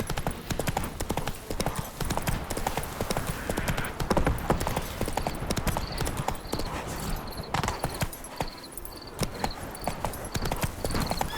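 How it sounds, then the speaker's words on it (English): Hooves of the horse Roach gallop in The Witcher 3, a fast, steady clip-clop rhythm that carries through the whole stretch with game music and effects beneath, and a faint whinny may break through. "Run, Roach. Not so fast, Roach"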